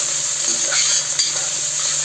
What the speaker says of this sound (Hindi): ये मैंने सब्जी छौंक दी है, अजवाइन डाल दी थी, प्याज डाल दी, लहसुन डाल दिया।